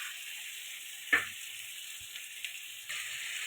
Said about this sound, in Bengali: ভেজে রাখা আলুগুলো এবার দিয়ে দেবো